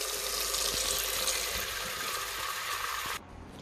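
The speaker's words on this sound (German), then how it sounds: "Diesen Pool müssen wir jetzt mit Wasser befüllen" Tap water gushes steadily from a sink tap into a small cat pool, a constant splashing hiss that cuts off abruptly near the end.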